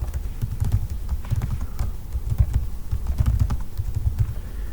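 Steady, rapid tapping on a computer keyboard while a number of hours is entered into a form field, with close, dense clicking and no voices.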